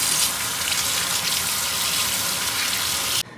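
Water runs steadily as Malabar spinach leaves are washed by hand, a continuous splashing rush with no pauses that cuts off abruptly at the very end.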